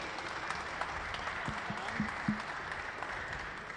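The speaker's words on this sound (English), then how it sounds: "Let's give him a round of applause, everybody." A room of people gives steady, moderate applause for a visiting artist after his talk, an even wash of clapping heard from a slight distance with a few louder claps near the middle.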